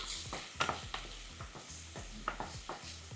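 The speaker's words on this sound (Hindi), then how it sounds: "2 मिनट तक भूनिए इसको" Corn tikki mixture roasting in a pan, with a spatula stirring and scraping in a steady rhythm of a few knocks per second over a low background sizzle, close up and fairly quiet, no talking.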